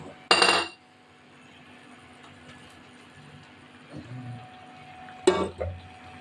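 A spoon stirring a pot of khichuri made with rice, dal, soybean and potato knocks against the metal in two sharp, close clinks, one near the start and one near the end, with only a quiet low rumble between them.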